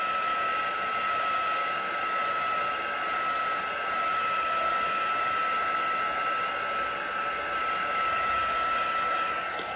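A heat gun blows a steady, loud hiss of hot air while melting embossing powder on a card, including the back of the card, continuous and close with no talk.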